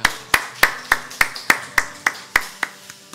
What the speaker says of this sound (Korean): 오늘 역사하실 그 하나님께만 감사와 찬양 박수 드리기 원합니다.